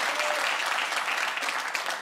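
Studio audience at a television panel comedy show claps in a dense, steady burst that is fairly loud and close and heard alone.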